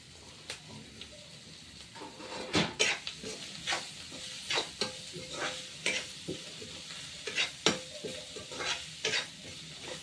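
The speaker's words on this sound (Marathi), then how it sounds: "इकडे आईन फोडणी दिलेलं आहे" Spices sizzling in oil for a vegetable curry tempering with Malvani masala, a soft sizzle beneath repeated scraping and clinking strokes of a spoon stirring in the pan.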